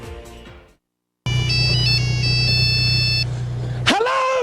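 A loud, electronic cell phone ringtone blares from a mobile in a Trigger Happy TV prank, breaking in after a short silence with a steady synthesized melody over a low hum before cutting out.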